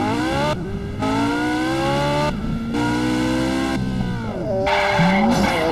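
A car in the Gangster Vegas video game brakes hard, its tires squealing in long, loud skids between bursts of a revving engine, close and with no talking.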